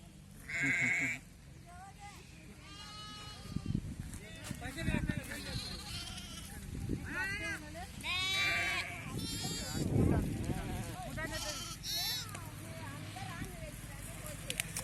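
Goats bleat several times, loud, wavering cries scattered over a steady murmur of people talking and some animal movement nearby.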